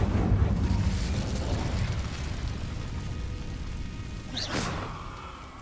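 The Incendio fire spell is cast in Hogwarts Legacy, starting as a loud, rumbling fiery burst that slowly dies down, followed by a brief bright whoosh near the end.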